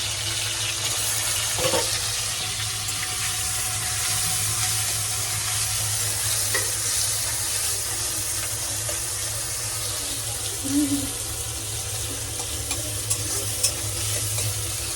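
Maggi noodles cooking in a home kitchen, a steady hiss and bubbling simmer with occasional scraping stirs, a low hum underneath, continuous and close with no talk.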